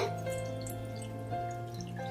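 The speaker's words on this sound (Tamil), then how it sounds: "தண்ணி எடுத்து ஊத்திக்கோங்க பாட்டில்ல." Water trickles steadily into a container for a couple of seconds, with a continuous low hum in the background.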